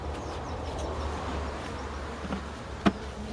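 Honeybees buzzing around an open National beehive, a faint steady drone with a single sharp knock near the end and no talk.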